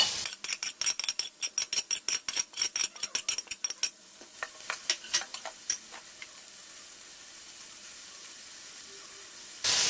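Cabbage, carrot and capsicum stir-fried in a pan: a quick run of rhythmic scraping strokes from the spatula, then a steady sizzle with a few scattered scrapes.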